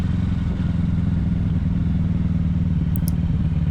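A 2020 Kawasaki Ninja 650 motorcycle engine idles steadily up close with a rapid, even low throb, accompanied by a couple of faint high chirps near the end.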